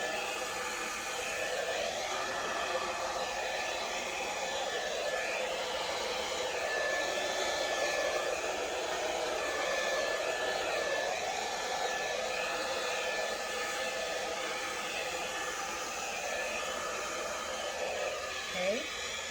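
A hair dryer blows steadily and loudly for the whole stretch over a fresh acrylic Dutch paint pour, its airflow an even, continuous roar with no break.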